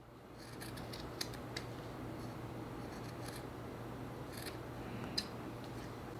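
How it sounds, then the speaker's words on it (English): Scissors snip in short, crisp bursts while trimming the fabric edge of a handmade FNAF Spring Bonnie Fuggler plush, a series of quiet close clicks and cuts over a steady low hum. "I'm just gonna trim out the behind edge just a little bit so you can't really see it"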